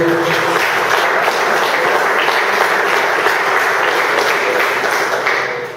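A plenary gathering of seminary priests and formators applauds loudly and steadily, a dense roar of clapping that holds evenly before tapering slightly at the end.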